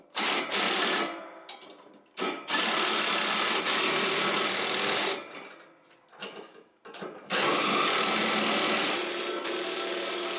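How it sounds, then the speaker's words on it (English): A cordless drill whirs loudly in several sustained runs, stopping and restarting with short pauses between bursts, close up and with no talking. "I got my drill driver here to try that"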